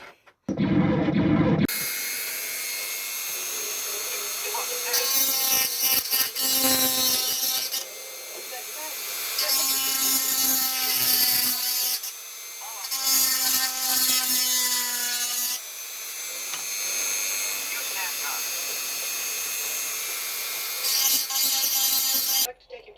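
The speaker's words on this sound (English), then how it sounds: "So I'm going to drill these out now" A power drill whines and grinds through material in several long bursts, pitch rising and falling, with brief pauses between holes.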